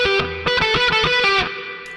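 An electric guitar played through a Mooer GE200 interlude preset rings out a quick run of distorted, chorus-tinged notes, loud and close, trailing into a reverb-soaked decay.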